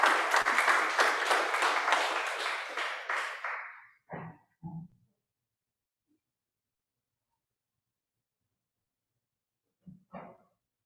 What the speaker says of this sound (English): Please let's give another round of applause for Ashley.